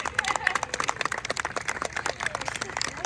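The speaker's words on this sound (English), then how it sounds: "Give him a round of applause, guys!" An audience claps in a brisk, dense patter at the Doc Holliday Festival, close and steady throughout, with a voice speaking over the applause.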